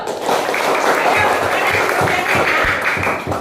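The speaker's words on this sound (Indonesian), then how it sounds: "Iya, tepuk tangan dulu." Group of children clapping in a classroom, a busy stream of hand claps with some thumping, while voices chatter over it throughout.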